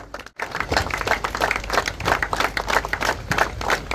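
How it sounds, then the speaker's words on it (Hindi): An audience claps at a prize ceremony for a unity run held in Diu on National Unity Day, a dense, steady round of applause that carries on for several seconds without voices. "हमने एकता के लिए दौड़ की है तो एकता के लिए भी ताली बजाए"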